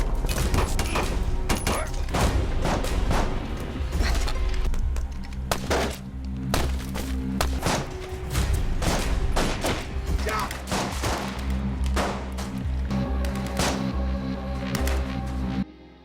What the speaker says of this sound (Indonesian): aksi tembak-tembakan.